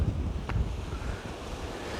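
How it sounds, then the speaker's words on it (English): Strong wind buffets and roars across an open coastal clifftop near Ilfracombe, North Devon, rumbling heavily and gusting unevenly, with no voices. "it's quite windy up this bit, as you can probably tell"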